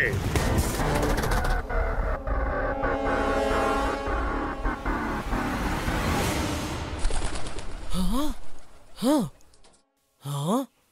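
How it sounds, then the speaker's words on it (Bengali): A pigeon in an animated adventure scene gives a few short, rounded coos near the end, clear and close, after a busy stretch of mixed background sounds. "এই আওয়াজটা তো পায়রার"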